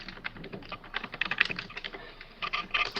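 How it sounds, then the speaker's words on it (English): Quick typing on a computer keyboard, a close run of light clicky keystrokes in uneven bursts with short pauses, heard alone without voices. "Who's typing?"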